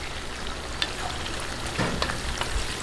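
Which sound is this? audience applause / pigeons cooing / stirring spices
stirring spices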